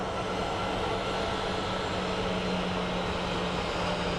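Airliner jet engines roar at Sky Harbor International Airport, a steady, broad rumble with a constant whine, loud and unbroken throughout with no voices.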